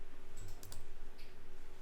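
A second computer keyboard being typed on, a quick close run of rapid key taps pattering evenly over a low background hum.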